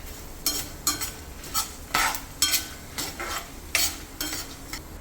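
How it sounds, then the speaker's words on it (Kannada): Coriander seeds dry-fry in a pan for vangibath powder, stirred with a spoon in a regular rhythm of about ten gritty, rattling scrapes over a faint background hiss, close and clear with no speech. "3 ಸ್ಪೂನ್ ಧನಿಯಾ ಕಾಳು ಹಾಕಿದ್ದೀನಿ. ಇದು ಫ್ರೈ ಮಾಡ್ಕೊಳ್ಳೋಣ"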